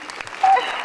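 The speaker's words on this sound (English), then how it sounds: "give her a round of applause" A short burst of audience applause at a luncheon, fairly close and moderately loud, with a faint tonal whistle or squeal partway through.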